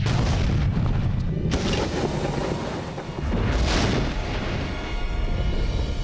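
Explosion on MythBusters: a huge, loud, deep boom that keeps rumbling and roaring for several seconds, briefly dipping before swelling again, with no talk over it.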